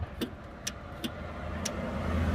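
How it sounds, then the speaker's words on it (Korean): An old tractor's starter solenoid, on a machine fit for scrapping, clicks sharply four times in an uneven rhythm as the key switch is pressed, close and crisp over a low background rumble. "지금 키, 스위치를 눌렀는데 작동 소리가 나네요"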